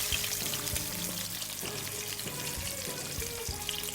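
Chicken pieces frying in oil for crispy-skin fried chicken: a dense, even crackling sizzle fills the clip, with a few soft bumps and spits from the pan and no talking.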